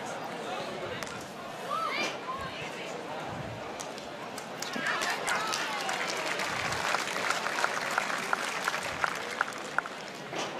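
Scattered crowd applause at a korfball match, moderately loud in a reverberant hall, continuing throughout with commentary voices over it.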